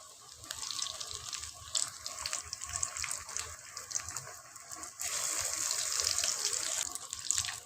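Aloo tikki, potato patties, fry in hot oil with a steady crackling sizzle, close by, growing denser and louder partway through.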